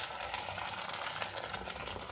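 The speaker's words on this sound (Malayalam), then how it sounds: "ഇനി ഇതിലേക്ക് നമുക്ക് നല്ല തിളച്ച വെള്ളം ഒഴിച്ചു കൊടുക്കാം" Boiling water being poured over dried soya chunks, a steady hissing, bubbling wash of sound that stays even and close throughout, with no voices.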